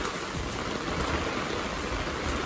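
Steady rain falling over farmland where cattle and sheep are kept, a dense, even hiss that runs throughout at moderate level with no voices.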